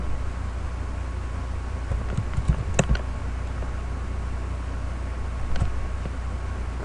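A few crisp key presses on a computer keyboard, including the V key, during image-editing work on an animated GIF. The clicks are scattered and close over a steady background hiss.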